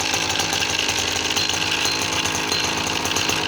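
A SKY100 paramotor engine runs with no propeller fitted, a loud, steady, buzzing two-stroke drone held at constant speed throughout with no talk.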